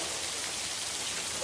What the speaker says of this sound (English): Do you see how hard it's raining?